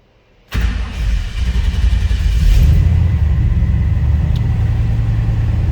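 A 1957 Chevrolet 3100 stepside street rod with a fuel-injected 454 fires from a cold start after a brief quiet, catching into a loud, close, deep rumbling idle that holds steady.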